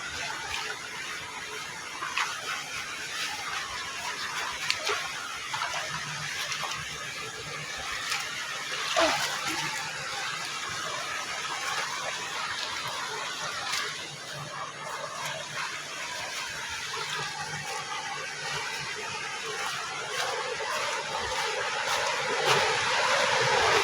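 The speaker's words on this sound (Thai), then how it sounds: "สียงน้ำตกอย่างดังอ่ะ" A loud forest waterfall on a stream gives a continuous rushing roar that swells slightly toward the end, heard close with no voices over it.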